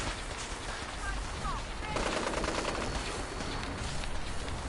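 Rapid gunfire in Fallout 4, a steady stream of shots in a busy firefight that swells louder partway through, heard close and continuous with no clear speech.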